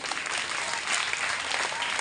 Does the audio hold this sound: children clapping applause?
yes